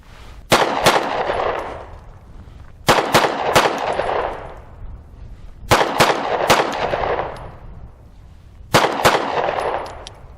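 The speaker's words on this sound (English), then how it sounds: "Let's go ahead and put 10 rounds through my little Sig 365." Loud pistol shots from a small Sig 365 fired at a target, arriving in tight pairs and triplets across four bursts, each sharp crack trailed by a short echoing decay.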